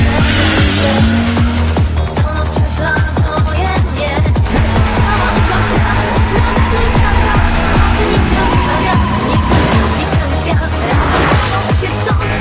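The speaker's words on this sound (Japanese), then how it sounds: "あのドリフトはほとんどカウンターを当てない全開の四輪ドリフト" An AE86 and a GT-R R32 in a full-throttle four-wheel drift in an anime race, with tires squealing and engines roaring loudly and continuously, layered over dense music and effects.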